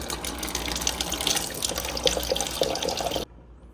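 Water streams steadily from the dispenser of a Whirlpool refrigerator, flushing through a newly installed EveryDrop EDR1RXD1 filter into a cup; a constant, close, fairly loud rushing that stops abruptly near the end.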